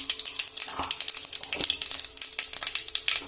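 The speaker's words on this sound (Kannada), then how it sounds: "ಜೀರಿಗೆ ಹಾಕೋತಾ ಇದ್ದೀನಿ" Cumin seeds sizzling in hot oil as a tempering for a sweet pumpkin stir-fry, a dense close crackle of quick pops over a steady hiss.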